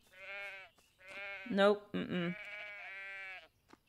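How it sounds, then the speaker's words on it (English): Sheep bleating in the farming video game Everdream Valley, several drawn-out wavering bleats close up, overlapping in a small flock, with a brief spoken word between them. "I can use myself and the dog to help herd the sheep where I want them to be."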